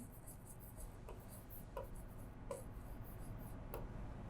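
Marker or chalk strokes on a board, a few quiet scratchy bursts spaced every second or so, faint and close, over low room hiss, during an accounting lesson.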